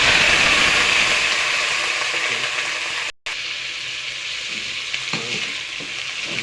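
Garlic, onion and ginger sautéing in a pan for chicken adobo, a continuous close bright sizzle with a brief cut partway through and faint stirring scrapes.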